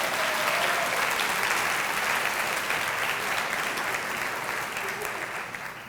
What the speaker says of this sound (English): can we please give Emily and the Clarkston Chamber a huge round of applause for this incredible event?